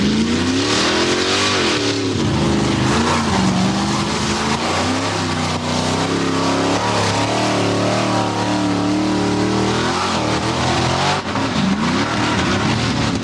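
A 1989 Chevrolet C3500 monster truck engine revs loud and close at a monster truck competition, its roar rising and falling continuously with a brief dip near the end.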